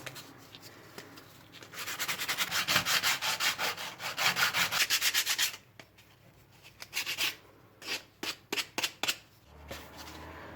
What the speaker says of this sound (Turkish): Şimdi kalın bir zımparayla